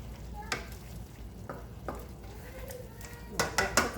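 Chicken, shrimp and bacon frying over lowered heat in a pan, a soft continuous sizzle broken by a few spoon taps and a burst of clattering stirring near the end.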